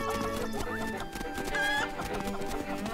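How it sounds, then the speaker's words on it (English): Chicken clucking from Zelda: Link's Awakening on Nintendo Switch, a quick run of bright game-audio clucks layered over background music, with no talking. "That chicken almost got me injured."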